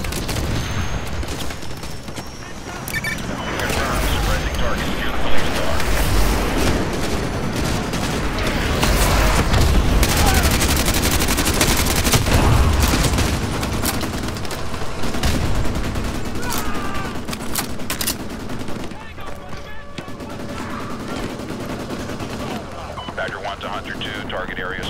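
Heavy gunfire and booming explosions in Modern Warfare 2 Remastered, fought in city streets, a dense continuous battle din with overlapping shots and blasts, someone talking over it at times.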